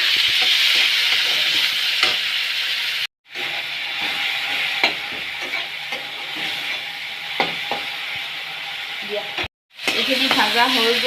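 Tomatoes fry with turmeric in a pan, giving a steady close sizzle with occasional stirring scrapes, cut by two brief silent gaps.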